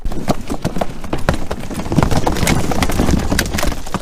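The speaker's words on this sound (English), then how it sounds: "why are you dumping all the pumpkins down the hill and wasting them?" Pumpkins dumped down a hill on a farm before snow tumble and thud in a dense, continuous run of loud, irregular knocks and bumps lasting throughout.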